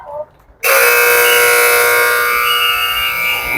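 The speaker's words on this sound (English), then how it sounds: "And here's the buzzer." A loud electronic buzzer ends the first half of a U14 youth soccer match, a harsh sustained blare that starts abruptly after a brief moment of talk and holds for about three seconds.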